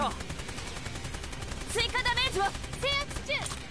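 Enemy gunfire in the shooter game Sword Art Online Fatal Bullet crackles as a steady rapid stream under a busy game mix, with bright musical or voice-like tones rising over it midway.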